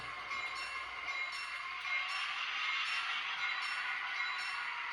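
Digitrax-controlled model train locomotive running in reverse, giving a steady whirring motor hum with a faint rattle, close and continuous with no talk.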